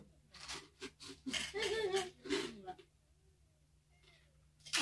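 A hungry domestic cat makes eager mewing and crunching sounds at close range, mixed with a few quiet indoor noises and occasional brief voices.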